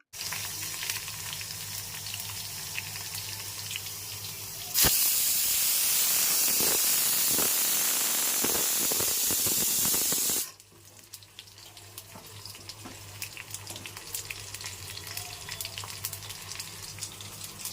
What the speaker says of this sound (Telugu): ఇక ఫైనల్గా చార్ని అయితే పోపు పెట్టేస్తున్నాను